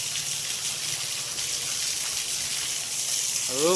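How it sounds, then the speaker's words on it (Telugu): Floodwater from heavy cyclone rain flows through a village, producing a steady broad rushing, gushing roar that stays constant throughout, with no voices heard. "ఇప్పుడైతే మన ఊళ్ళో చూడుర్రి వరద ఎట్లా పోతుందో"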